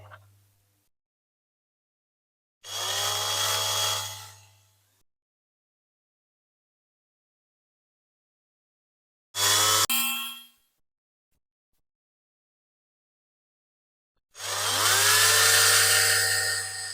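Three bursts of a high-pitched power drill whining as it drills out a rivet on a Matchbox diecast F1 racer, each lasting a second or two, separated by silence, close by.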